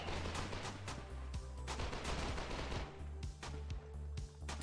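SMG gunfire in the video game Foxhole during a competitive league match, dense rapid bursts of shots in quick succession, loud and continuous with heavy low-end booms.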